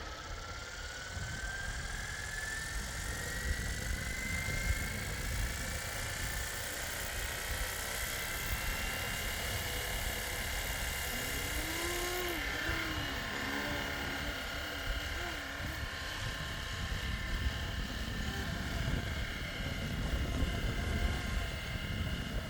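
A 3D printed Hughes MD500 RC helicopter hovers outdoors in a stiff breeze, giving a steady, close motor whine and rotor drone that never lets up, with wind rumbling underneath.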